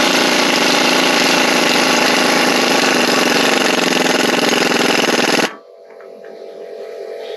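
A small air compressor runs loud and close with a steady, rapid pulsing drone, then stops abruptly, leaving a quieter background hum.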